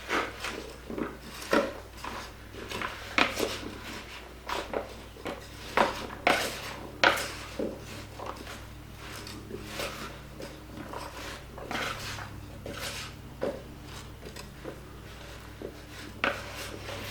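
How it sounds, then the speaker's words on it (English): Chunky potato soup is stirred in a pot, making irregular knocks, scrapes and clinks of a spoon against the pot, soft and close with short pauses between strokes. "I'm going to stir all this together."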